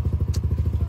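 A 2024 Yamaha NMAX Neo scooter fitted with an aftermarket exhaust, running close by with a loud, throbbing low pulse that repeats steadily and carries a faint clatter, heard alone without talk.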